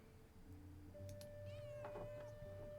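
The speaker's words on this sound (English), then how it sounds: "I wonder if there was always this many cats at the Abbey." Cats meow at the abbey in the video game Pentiment, a few short faint mews over soft ambient game music and a low hum.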